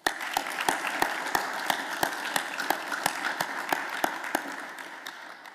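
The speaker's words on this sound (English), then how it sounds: "Let's give Julie a round of applause." Applause for Julie Goetcher at the 50th anniversary event of Ohio University's Edwards Accelerator Lab: a sparse, modest round of clapping with distinct individual claps standing out, fading slightly toward the end.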